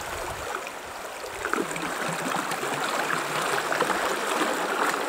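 The Razdolnaya River near Pokrovka runs swollen and still rising after a night of rain, giving a steady, close rushing wash of fast water that carries on evenly throughout with no talk.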